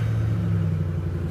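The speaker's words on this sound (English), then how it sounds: "Go ahead and start the car for you." Low, steady rumble of a 2010 Ford Mustang GT engine starting and running close by, with no voices.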